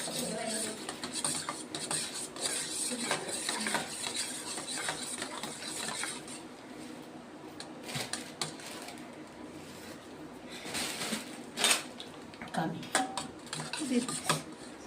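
A spoon stirs a mixture for Chettinad paal appam in a bowl, giving quiet, steady scraping and clinking with occasional sharper knocks against the rim.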